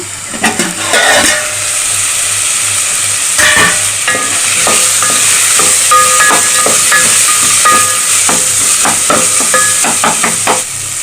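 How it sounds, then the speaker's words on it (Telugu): Onions, green chillies and vegetables frying in a pan for a home-cooked curry, with a steady loud sizzle and hiss throughout and repeated spatula stirs and scrapes against the pan. "ఆనియన్స్ పచ్చిమిర్చి ఫ్రై అయిన తర్వాత రిమైనింగ్ వెజిటేబుల్స్ అన్నీ కూడా వేసుకొని ఫ్రై చేసుకున్నాను"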